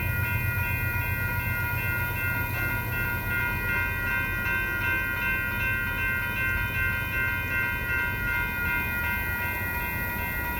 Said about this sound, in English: Wave to the train.